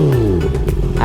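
A 2019 Honda CBR 650R sport motorcycle, restricted for the A2 licence, runs close by with a loud, steady four-cylinder engine drone whose pitch shifts slightly.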